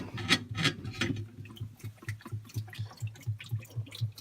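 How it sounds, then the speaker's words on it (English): Cleaning solution is poured from a bottle into the bin of a Marvel ice maker, giving a run of rhythmic glugging, dripping liquid sounds that fade to softer regular splashes, close by. "Now I'm pouring my cleaning solution into the bin."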